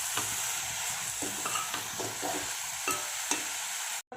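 Raw onion, ginger and garlic stir-fried in a pan give a soft steady sizzle, broken by repeated scraping and tapping of a spatula at close range, with no talking.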